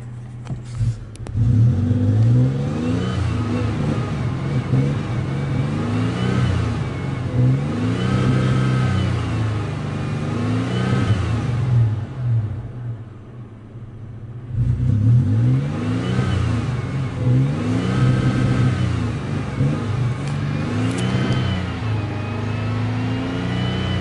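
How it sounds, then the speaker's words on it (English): A 2000 Toyota 4Runner engine runs close by with repeated revving, rising and falling in two long bursts with a brief lull between them. No voices are heard over it. "Motor sounds good."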